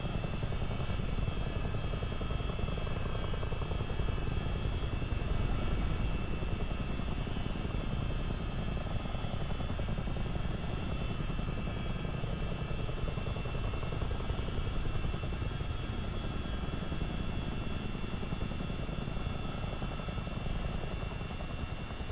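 A CH-47D Chinook military helicopter in a flight simulator game, its steady, dense engine and rotor roar filling the scene continuously, loud and unchanging throughout.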